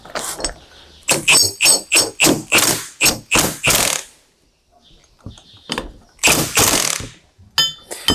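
A wrench works a tensioning nut on a John Deere 40 or 90 Series corn head while a Calmer upgrade kit is fitted: a quick run of about eight sharp metallic clacks, a pause, then a few more close, loud bursts.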